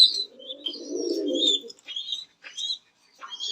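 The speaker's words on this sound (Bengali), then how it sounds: "এখানে আমরা একজোড়া জোড়া মুখী কবুতর দেখতে পাচ্ছি সাথে একটি বেবি" Racer pigeons on a pigeon farm give soft low cooing for a couple of seconds, mixed with brighter chirps and tweets from other birds nearby, with no talking.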